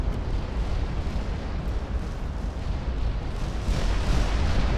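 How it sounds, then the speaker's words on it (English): Torpedo hits detonate against a battleship in the naval video game Ultimate Admiral: Dreadnoughts, heard as a continuous heavy low rumble of explosions that swells louder toward the end, with no talk. "Come on, torpedoes. Yeah, we're going to land a few against the battleship here."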